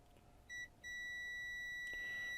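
An Aneng AN888S multimeter gives a short high beep on a continuity short, then a longer sustained tone, thin and clean over a quiet background.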